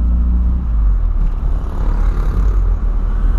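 A 1985 Volkswagen Voyage is driven along the road, its engine and road noise a steady low rumble heard from inside the car. No one speaks.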